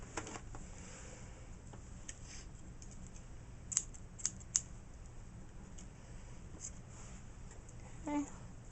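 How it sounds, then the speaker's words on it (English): Scissors trimming a yarn tail on a D.A. Infinity Loom, a few sharp quiet snips in close succession, faint and close against a quiet room. "and then I would just trim it again"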